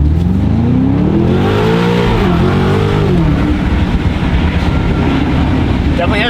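A BMW G90 M5 V8 fitted with a Valvetronic Designs titanium valved exhaust revs and accelerates hard, its deep engine note climbing in pitch before easing into a loud, rumbling drone.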